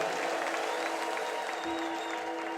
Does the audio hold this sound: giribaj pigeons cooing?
no